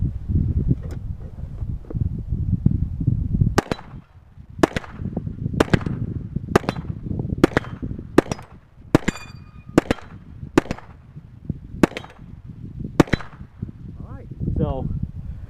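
Hi-Point carbine firing Winchester 165 grain .40 cal rounds at 9-inch steel plates 25 meters away: about ten sharp, loud gunshots in a steady rhythm, each followed by a metallic ping, over a low background rumble.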